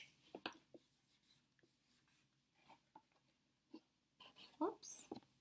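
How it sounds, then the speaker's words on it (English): A pen scratches out a number on paper in a quiet room, giving short, soft scribbling strokes between faint, close murmured speech. "Okay. Let's write that number."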